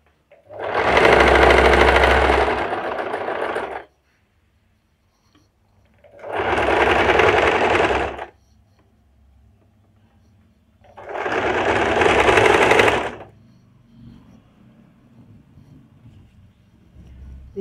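A sewing machine stitches a seat joint in three loud, steady whirring runs of about two to four seconds each, separated by quiet pauses.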